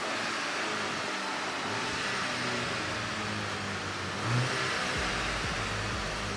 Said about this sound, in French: ça, c'est l'échappement d'origine de la Mark VI Gran Turismo Injection